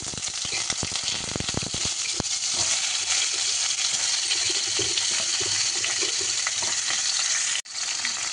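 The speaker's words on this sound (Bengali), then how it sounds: "পটলগুলোকে যতক্ষণ না লাল হয় লাল লাল করে ভেজে নেবো" Pointed gourds (potol) fry in hot oil in a wok, giving a steady, dense sizzle throughout. There is some stirring clatter early on, then a brief dropout near the end.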